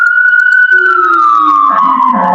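A loud police siren wails alone outside, its pitch sliding steadily downward as the vehicle passes close by.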